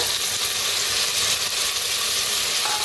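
Coriander, tomato and peas roasting in a hot pan give a steady, dense sizzle and crackle that stays even and close throughout, with no talking.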